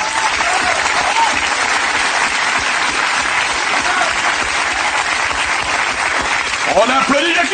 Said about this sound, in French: On applaudit Juliette!